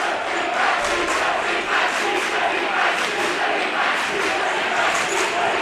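A sold-out high school basketball crowd in a hot, loud gym at a Winnacunnet versus Exeter game, a dense continuous roar of cheering and shouting filling the space, with voices mixed into the din.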